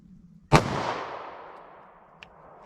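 A single sharp report from a Taurus G2C .40 caliber pistol cracks close by and rings out in a long fading echo, followed by a small mechanical click.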